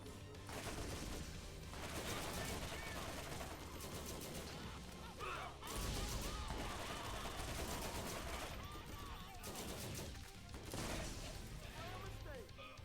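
In a Borderlands-style looter-shooter with a modded Roland character, a gun fires in rapid bursts that run almost continuously, with crashes and booms mixed in and talk over the gunfire.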